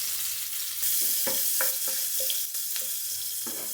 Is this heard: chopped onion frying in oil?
yes